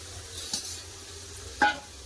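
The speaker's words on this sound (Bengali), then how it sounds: "মশলাতে তেল ছেড়ে গেছে এবার দিয়ে দেবো ভেজে রাখা আলু" Fried potatoes tipped into spice paste in hot oil, with a faint sizzle and two short scraping stirs in a quiet kitchen.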